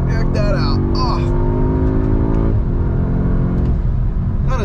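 An Audi S3 with a DSG gearbox revs and blips as it downshifts under braking, its engine tone sweeping down in steps over a close rumble, with a brief voice near the start.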